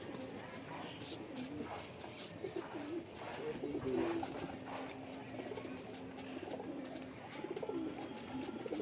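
Domestic pigeons coo repeatedly at a home loft, low rolling calls overlapping steadily at close range with faint chirps and a little background voice.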